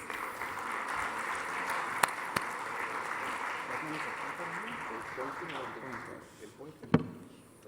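An audience at a medical congress applauds to welcome a speaker, a continuous moderate clapping wash with a few sharp claps standing out, dying away near the end as a voice talks over it.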